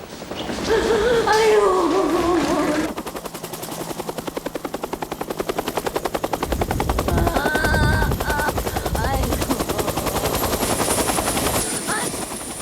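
A helicopter flies overhead heading to an air force base, its rotor beating in a fast, steady chop that stays loud and close throughout, with a brief voice near the start.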